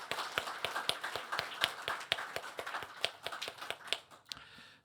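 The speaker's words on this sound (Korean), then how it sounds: "함께 축복의 박수 한번 보내드리겠습니다" A church congregation at a Sunday service in Hong Kong claps together in blessing. The hand claps are crisp and rhythmic, with a steady beat of fairly quiet, distinct strikes that fade near the end.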